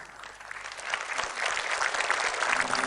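Studio audience applause at a televised talk show, a broad wash of many clapping hands that swells louder partway through and continues steadily without a break.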